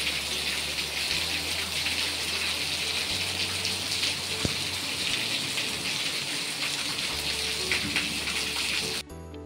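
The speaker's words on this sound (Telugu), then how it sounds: "వర్షం బాగా ఫుల్గా వర్షం వస్తుందండి" Heavy rain pours down steadily in a dense, continuous hiss, with a low hum underneath and a single sharp tap partway through.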